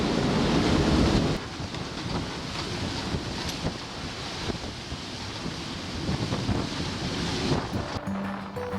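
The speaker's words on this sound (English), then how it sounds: "we're getting wind acceleration off the island again, gusting to 30." Strong wind gusting to 30 knots off the island of Saint Lucia while under sail on a sailboat, a loud, continuous roar of wind buffeting the microphone with waves and surf washing beneath, easing slightly after a heavy opening gust.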